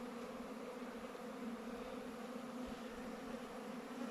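Honeybees flying around their hives in autumn, a dense continuous buzzing hum from many insects close by, steady and even with no voices.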